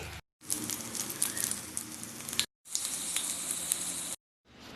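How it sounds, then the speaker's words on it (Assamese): Capsicum pakoda sizzling and frying in hot oil in a kadai, a steady close crackle and hiss in two long bursts separated by brief silences. "বাকি কেটাও মই ভালকে ফ্ৰাই কৰি লম"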